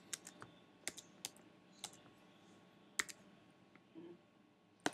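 Keys on a computer keyboard tapped in short, irregular bursts of sharp clicks, fairly close and clear against a quiet room background, with brief pauses between groups of keystrokes.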